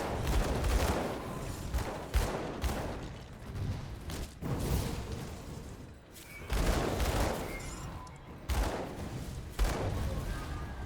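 Rapid bursts of gunslinger gunfire in an action video game, repeated loud percussive volleys spaced a second or two apart over a dense, rumbling combat backdrop.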